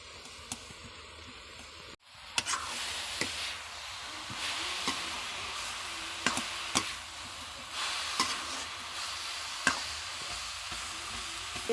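Radish greens frying in a pan, pressed and beaten down with a spoon: a steady close sizzle with scattered sharp taps and scrapes, after a brief quiet opening.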